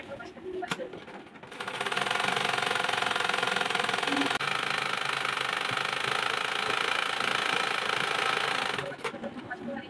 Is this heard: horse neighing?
no